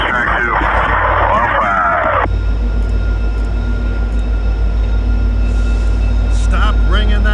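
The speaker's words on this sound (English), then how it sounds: "Goes the Canadian to Vancouver with two F-40s" Two F40 diesel locomotives haul the Canadian passenger train in Toronto, a loud, steady low engine rumble with a drone. It is preceded by a brief burst of bright tonal sound and ends with faint higher tones.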